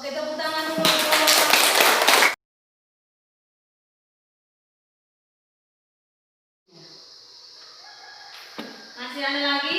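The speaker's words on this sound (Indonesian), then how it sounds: "Oke, tepuk tangan dulu untuk kelompok" Classroom applause for a student group: a dense burst of clapping for about two seconds, then silence, then murmuring voices and renewed clapping building toward the end.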